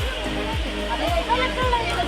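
Waterfall at Patalpani near Indore, a steady broad roar of falling water pouring continuously into a pool below, loud and constant throughout with no gaps.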